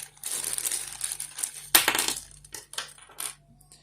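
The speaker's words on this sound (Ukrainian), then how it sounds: "Так, якась маленька штучка випала." A small hard adapter drops out of a wireless headset box and clatters amid crinkling packaging, followed by a few lighter rustles and taps close by.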